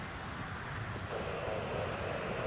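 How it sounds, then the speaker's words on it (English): KLM Embraer 175 airliner taxiing at Newcastle Airport, a steady distant jet engine whine and rumble blended with outdoor wind noise, continuous and moderately faint. "Other KLM Embraer 175 is just taxiing now."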